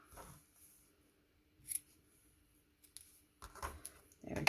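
Scissors snip through the ends of a craft bow in a few quick, faint, close cuts, with soft handling rustle in between and no one speaking.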